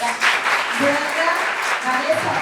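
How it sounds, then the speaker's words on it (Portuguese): Audience applause for the actors at a tribute event honoring griô masters, a steady wash of clapping heard alongside a speaking voice throughout. "Mas só as palmas para os atores, gente."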